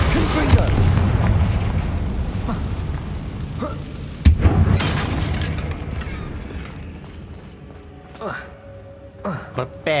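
Spell explosions in Hogwarts Legacy go off as booming bursts, one big blast mid-clip among other impacts, with someone talking throughout.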